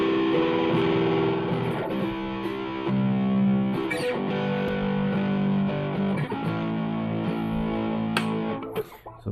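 An electric guitar played through both humbuckers with all tone controls turned up rings out in sustained, distorted chords and notes, fairly loud and continuous with a few sharp pick attacks, no voices.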